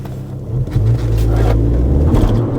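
A Skoda Fabia 1.6 TDI with an upgraded exhaust accelerates hard, its deep diesel engine and exhaust rumbling loudly and close by.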